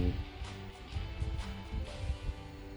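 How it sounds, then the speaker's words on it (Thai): A steady, quiet whirring hiss of a ThinkPad laptop cooling fan running at full speed, with a few low thumps and bumps mixed in. "อันนี้คือเสียงพัดลมฟูลสปีดนะครับ"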